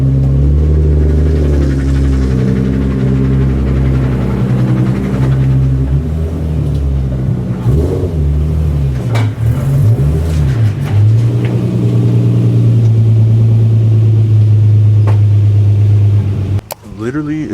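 A Nissan 350Z rolls into a driveway, its engine rumbling steadily and close throughout, with a brief revving swell near the end.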